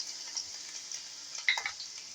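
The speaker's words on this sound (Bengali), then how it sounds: "রসুন ভাজা" Garlic fries in hot mustard oil in a pan, a quiet, steady sizzle with a few light stirring scrapes and small pops, close and faint.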